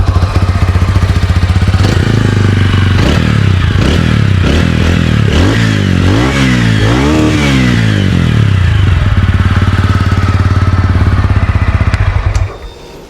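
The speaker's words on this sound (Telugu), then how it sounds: "ఇప్పుడు మీకు ఒకసారి నేను దీని ఎగ్జాస్ట్ సౌండ్ వినిపిస్తాను." A TVS Ronin cruiser motorcycle starts up and idles with a bassy exhaust, then revs sharply several times in quick succession before settling back to idle and cutting off at the end.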